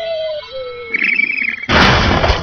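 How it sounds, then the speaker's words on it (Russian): An explosion in the video game Angry Birds Seasons bursts in loudly after tonal game sounds, a dense crashing blast that sustains to the end of the moment. "И взрывом все добьем"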